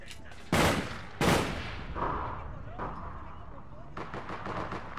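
Gunfire in APB Reloaded begins with two sharp, loud shots close together. Quieter bursts and rattling follow, and a voice talks alongside the shooting.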